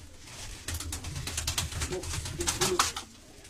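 Turkish tumbler pigeons coo in soft, throbbing bursts up close, the calls building and repeating over a faint background of rustling and movement.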